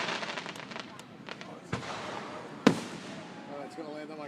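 Fireworks burst over Lake Wallenpaupack, with several sharp cracks and one loud bang amid crowd chatter and voices talking throughout.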